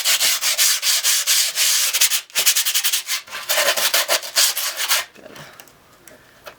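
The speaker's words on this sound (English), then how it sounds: "You want to take your extra piece of grip. Nothing too big, just a little piece. Sand it on there." A scrap piece of grip tape is rubbed against the edges of skateboard grip tape in quick, rasping back-and-forth strokes, loud and close. The scraping stops briefly midway, resumes, then fades to quiet handling near the end.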